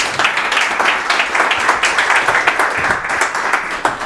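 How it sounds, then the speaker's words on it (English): Audience clapping for a speaker at a Bitcoin venture capital panel event, a brisk round of applause with distinct individual claps audible in a fairly small crowd, steady throughout. "I think a quick applause for Khushboo."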